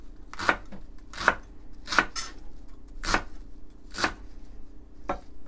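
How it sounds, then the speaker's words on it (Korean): A knife chops through sesame leaves on a cutting board, cutting them into strips about as thick as shredded cabbage for a pickled cabbage dish. There are about eight crisp, evenly spaced strokes, close and clear, with no voices. "양배추하고 비슷한 느낌의 그 굵기로 채 썰어 주시면 돼요"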